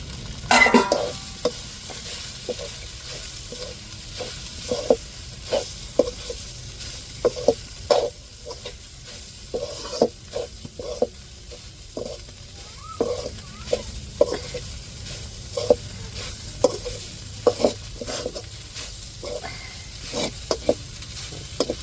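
Chicken pounded on a grinding stone is sautéed in oil with a coconut tempering: a continuous close sizzle punctuated by regular scraping strokes of a spatula against the pan.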